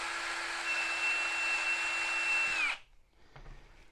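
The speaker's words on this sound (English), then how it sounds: "what I'm going to do is I'm going to just drill that through" A power drill bores gently through a fixing hole in the roof of a 1/6 scale Armortek Hetzer Jagdpanzer 38 model tank, a steady close whine that winds down and stops, followed by faint handling noises.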